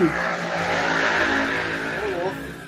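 A motorcycle roars past close by in a loud, steady engine sweep with a squeal-like edge, lasting a couple of seconds while voices talk over it.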